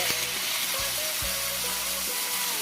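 Boiling water hits pork ribs that have been stir-fried until lightly golden, making a continuous hissing sizzle at moderate level with faint low bumps from the pan, heard alone.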